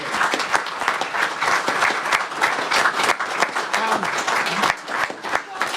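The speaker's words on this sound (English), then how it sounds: "So I want to get a big round of applause first for them." Big round of applause from an evening audience at an engineers' seminar and FM master antenna tribute, dense and sustained clapping with loud crisp hand claps filling the whole stretch.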